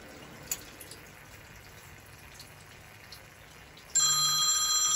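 A phone starts ringing beside a Burnham gas boiler being repaired, a steady electronic trill that begins abruptly after a quiet stretch with a few faint drips and clicks.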